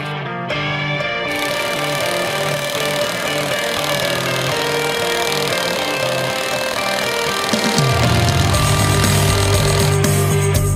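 A Drill Master cordless impact driver drives lag bolts with a steady, loud hammering rattle that runs continuously, then shifts to a deeper, heavier tone near the end.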